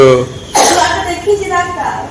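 A sharp cough bursts out near the mic, followed by a second smaller cough, with some voices murmuring before and after; the cough is lingering and not easing.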